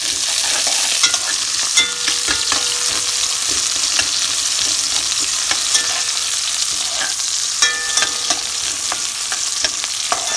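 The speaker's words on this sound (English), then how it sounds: "Because my oil was nice and hot, as you can see, my onions are cooking fairly fast." Onions fry in hot oil in a pot, giving a continuous close crackling sizzle with occasional scraping stirs and clinks of a utensil, steady throughout and with no voices.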